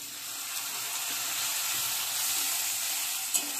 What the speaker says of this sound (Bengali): মিক্সিটা ধুয়ে একটু জল দিয়ে দিচ্ছি।